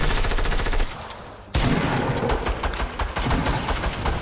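Rapid automatic gunfire from a Fortnite match fills the mix, loud and dense bursts that dip briefly near the middle before resuming as continuous crackling volleys.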